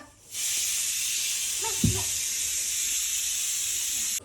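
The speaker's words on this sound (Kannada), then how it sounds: "ಕುಕ್ಕರ್ ಸೌಂಡ್, ಹೋಯ್ತು." A steady, loud hiss of escaping steam from a pressure cooker whistle fills the clip, with a brief low thump partway through.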